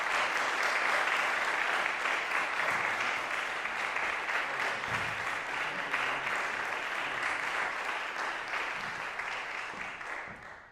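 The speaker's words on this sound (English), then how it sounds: "Give him a big round of applause." An audience at a guest trombone recital applauds a pianist, many hands clapping in a full, sustained wash that stays loud for about ten seconds before tapering off at the end.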